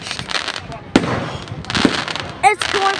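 Fireworks launching and popping at a public display in Pounawea, with sharp cracks, crackling bursts and rising whistles, while people nearby exclaim and talk.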